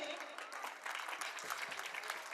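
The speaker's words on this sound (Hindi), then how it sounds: "जोरदार तालियों से" School annual day audience clapping during a prize and honours ceremony: a continuous, fairly faint wash of many hands, steady throughout, with a few murmured sounds mixed in.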